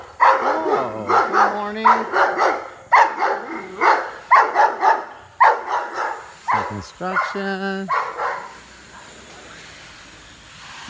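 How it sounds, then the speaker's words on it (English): Guard dogs bark repeatedly in sharp bursts, close and loud, with some yips and whimpers, while someone speaks briefly between them. "Got some doggies here."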